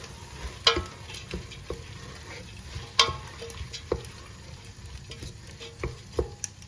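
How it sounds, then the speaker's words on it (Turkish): Ingredients for Turkish lentil soup being sautéed and stirred in a pan, a soft sizzle under intermittent spoon scrapes and taps against the pan, close and moderately loud. "Ve bu şekilde de birazcık kavurmaya devam edelim."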